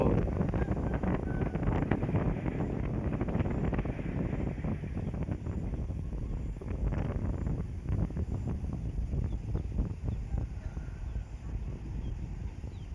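Dry wind blowing steadily across an outdoor work site near power poles, a continuous broadband rush with gusty buffeting against the microphone throughout.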